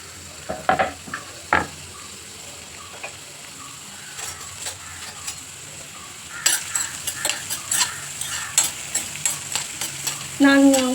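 Chopped onion frying in oil in a pan, stirred with a utensil that clinks and scrapes repeatedly against the metal; a steady sizzle runs underneath, growing louder and busier in the second half, with no voices.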